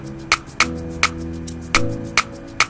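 A shaker in an Afrobeat beat built in FL Studio gives short, crisp, bright hits at an uneven rhythm, sitting over soft tonal chords and low bass notes.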